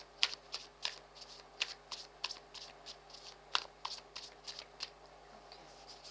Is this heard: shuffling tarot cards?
yes